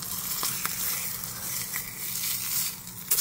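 Breakfast sausage sizzling in a frying pan, a steady close hiss and crackle with a few sharper pops, running alone without talk.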